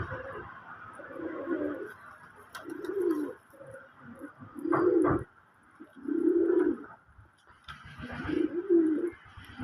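Digi breed pigeons coo in a loft, several soft throaty rolling calls rising and falling in bouts, close by, with faint background clatter and no talking.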